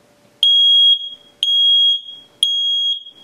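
A Nest Protect smoke alarm sounds during its self-test: three loud, piercing high beeps, each about half a second long, evenly spaced a second apart, close by with no talking over them.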